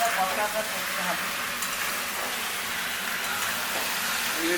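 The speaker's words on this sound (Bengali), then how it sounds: "মিনিট পাঁচেক ভাজা ভাজা কষা করতে হবে।" Catla fish head sizzling in a pan while being stirred, a continuous mid-level frying hiss with faint scraping throughout a few seconds.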